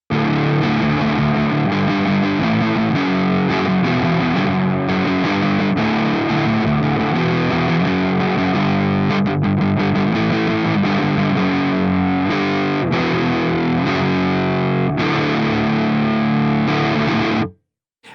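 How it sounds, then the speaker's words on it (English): Electric guitar played on the middle pickup position through the mid channel of a Clairvoyant amp suite, giving a crunchy medium distortion; loud sustained chords and riffs ring continuously for about seventeen seconds before cutting off abruptly. "This is more of like your crunch tones, your medium distortions"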